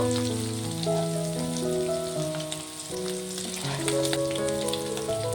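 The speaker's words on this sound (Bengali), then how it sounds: "চিংড়ি মাছটাকে একটু ভেজে নেব" Shrimp sizzle and crackle as they fry in hot oil for a taro and shrimp dish, a continuous frying hiss heard beneath louder melodic background music.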